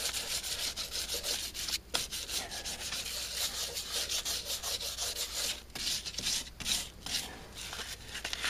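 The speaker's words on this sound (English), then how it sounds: "So we're gonna just sand it, and we're gonna prime it" Filler on a car's rear quarter panel is hand-sanded in a continuous rhythmic back-and-forth rasp, close up and steady, with a few brief pauses between strokes.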